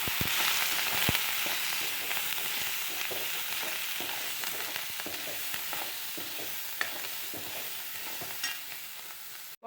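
Chopped onions, green chillies and coriander leaves sizzle steadily in a hot pan while being stirred, with close clinks and scrapes of the spoon breaking through the continuous frying hiss. No one speaks.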